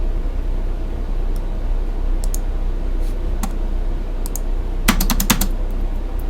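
Computer keyboard keys and the spacebar pressed during drafting work, heard as sparse single clicks and then a quick cluster of taps over a steady background hum, close by.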